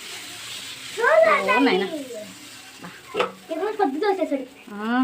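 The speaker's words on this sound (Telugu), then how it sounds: "నా కోసం ఒక దోశ పోస్తున్నాడు" Dosa batter sizzles steadily as it is poured and cooks on a hot pan at home, with voices talking over much of the frying.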